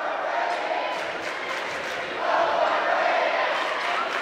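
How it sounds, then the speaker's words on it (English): A high school varsity boys basketball crowd cheers after made free throws in a gym, a steady wash of voices that swells partway through, with a commentator talking over it. "Both cheering sections in attendance here as Fields makes both"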